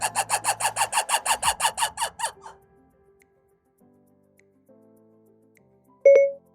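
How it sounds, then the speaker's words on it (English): Red-ruffed lemur sending out a rapid run of about fifteen loud, raucous barking calls in quick rhythm, then near silence with faint shuffling and a short electronic chime at the end. "Here's a red-ruffed lemur."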